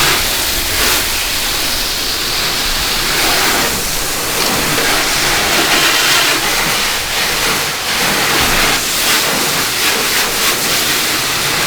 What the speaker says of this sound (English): So we're gonna rinse this off, do our contact wash